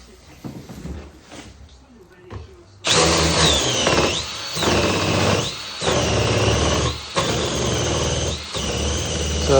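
A drill-driven chamfering tool bevels the edge of a plastic waste pipe, a loud, continuous whirring grind in several bursts with brief dips between passes, after a quieter stretch of handling noises.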